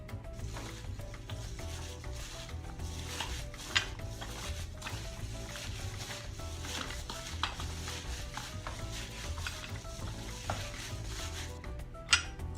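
Meatball mixture with ginger garlic paste, cilantro, salt and red chili powder being stirred and mixed in a bowl, giving a steady soft squelching and scraping with a few sharper clinks, close up and with no talking.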